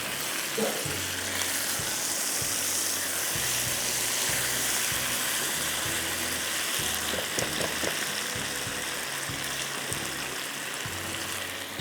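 Chopped onion frying in a pan while being browned to caramelize, a continuous even sizzle with faint scraping underneath, steady and close throughout.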